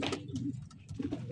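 A pigeon hen gives soft, low, rolling coos in short phrases. The sound is close but quiet, set against faint background noise, with no talking.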